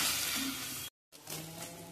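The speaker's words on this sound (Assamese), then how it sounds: "আৰু এইটো মই অকণমান গেছটো কমাই পিনে ৰঙচুৱাকৈ ভাজি ল'ম।" Eggs frying in oil in a wok with a little chili powder over a lowered gas flame give a soft, steady sizzle, briefly cut by a moment of silence before it resumes.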